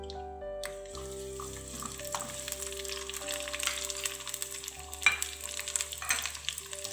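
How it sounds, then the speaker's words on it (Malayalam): Small shallots frying in hot coconut oil in a Kerala-style kitchen pan: a steady, close sizzle and crackle of oil, with faint clinks of stirring and a low constant hum beneath, and no talking. "വെളിച്ചെണ്ണ ചൂടായി ചെറിയ ഉള്ളി ഇട്ട് കൊടുക്കാം."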